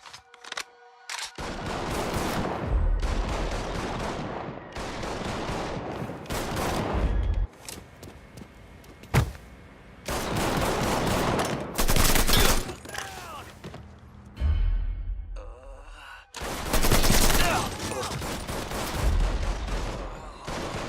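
Bursts of gunfire from the Mafia III video game, loud overlapping volleys and shots with heavy low thumps, coming in several separate waves with short lulls between them, and no talk over them.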